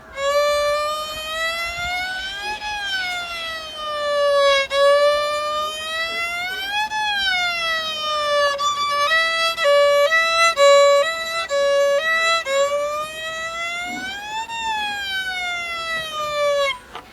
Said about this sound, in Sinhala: දැන් බලමු ඇම්බියුලන්ස් එකක් කොහමද යන්නේ කියලා.